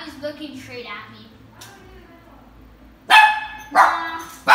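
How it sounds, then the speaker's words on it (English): A pet dog barks loudly in two sharp bursts near the end, following a stretch of quieter speech in a casual home setting during gameplay. "Still, so that's my dog screaming."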